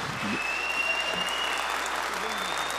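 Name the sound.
applause from supporters in a legislative session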